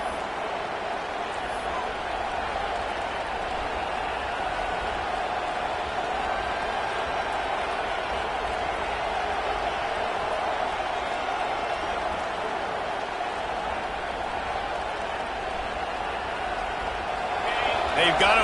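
Steady roar of a stadium crowd in the NCAA football video game, a dense, continuous wash of cheering that swells slightly near the end, with no talk over it.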